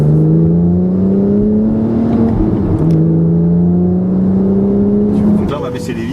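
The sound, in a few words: Porsche 997 Carrera with SCART exhaust, valves open, revving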